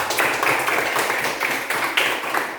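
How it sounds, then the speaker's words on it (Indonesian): A class of young pupils claps for a classmate who has just named a folk tale, a steady dense patter of small hands in a classroom, fairly even throughout with slight swells. "Tepuk tangan dulu buat Ul"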